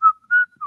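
A person whistles a few clear notes of a tune while taking a shower, three short separate pitches sounding close and loud with brief gaps between them.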